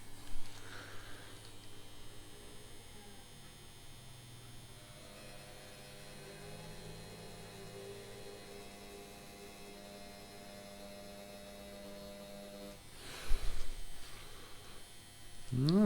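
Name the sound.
Favvosee Nebulla 2 tattoo machine running at speed 7.5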